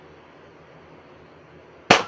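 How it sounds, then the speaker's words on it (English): A Nerf gun fires once: a single sharp, loud pop breaks the quiet room tone near the end. "Fire this Nerf gun."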